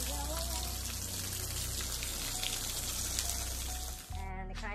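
Water gushes steadily through a PVC in-ground sprinkler system fed from a hose bib while the lines are flushed, a loud continuous spray that cuts off abruptly near the end.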